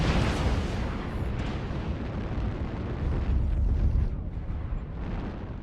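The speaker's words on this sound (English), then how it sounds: "Airstrike activated." Airstrike explosions in a mech combat video game, a sustained loud roar of overlapping blasts and deep rumbling booms that swell then fade slightly toward the end.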